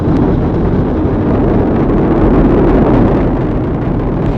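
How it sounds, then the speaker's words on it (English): A continuous, heavy, low rumbling roar at a steady high level from the four RS-25 core stage engines and two solid rocket boosters of NASA's Artemis I rocket at liftoff, thundering at a distance, with no voices. "All 4 RS-25 engines on the core stage and 2 solid rocket boosters now propelling the vehicle"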